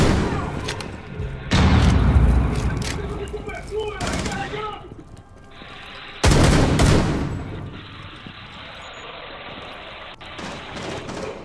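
Bursts of loud gunfire and booming shots in Tom Clancy's Rainbow Six Siege, with two heavy blasts and rapid firing between quieter stretches, a voice occasionally talking over it in Portuguese.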